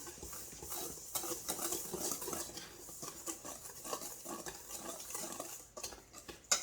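A utensil stirs dry vegan vanilla cake ingredients in a bowl, producing soft irregular scraping and light clinking strokes at close range, fairly quiet with no talk.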